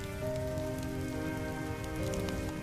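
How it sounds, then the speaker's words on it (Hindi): Heavy rain pours steadily onto a surface with a dense, continuous hiss that holds loud and even throughout, with no voices over it. "तेज बारिश में बीच सड़क पर भीग रहा था"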